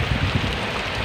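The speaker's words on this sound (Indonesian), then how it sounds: "hujan sangat lebat" Very heavy rain on a slippery, foggy, congested road, a dense, loud, continuous roar and hiss with no breaks.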